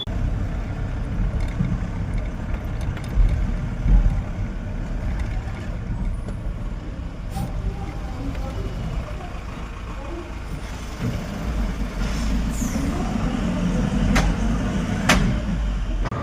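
A loaded goods truck on a highway, its engine a steady low rumble throughout with passing traffic noise and a few brief hiss-like bursts, no speech.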